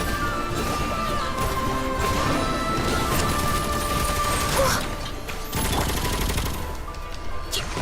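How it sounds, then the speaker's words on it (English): Rapid machine-gun fire and mechanical clatter from a Genshin Impact battle, a dense continuous rattle with crashes mixed into game music and effects, loud and steady throughout. "Bro, machine guns?"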